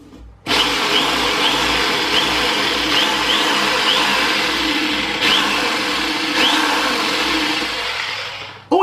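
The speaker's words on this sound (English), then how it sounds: "a jigsaw, a Black & Decker jigsaw, and it just does the job lovely" Black & Decker jigsaw cutting through a pumpkin, a loud, steady buzzing motor drone running continuously for about eight seconds with brief pitch shifts as the blade works, then stopping abruptly.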